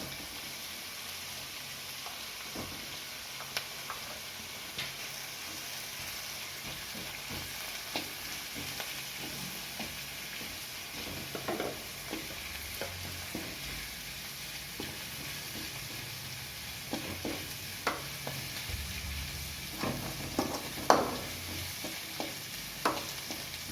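Drumstick leaves fry in hot oil for adai dosa, giving a continuous soft sizzle. Occasional crackles and stirring scrapes rise above it and grow more frequent toward the end, with no voices.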